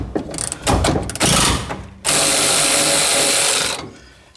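Power tool, likely an impact wrench or ratchet, backing out tight door hinge bolts on a 1973-1987 Chevy truck, with a few short bursts followed by a long steady whir, loud and close.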